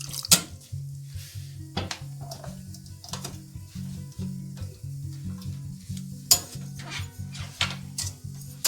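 Sugar and water stirred in a pot to dissolve for a plum, fig and apricot chutney, with repeated close scraping and clinking strokes of a utensil against the pot over a low steady hum.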